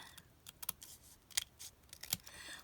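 Scissors snip through a strip of Halloween paper used as a tag, giving several sharp, close cuts spaced irregularly in a quiet room.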